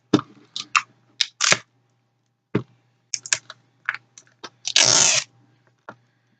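A plastic DVD case is handled and opened nearby: a string of sharp clicks, taps and rattles in irregular bursts, ending in a longer scraping snap, with quiet gaps between.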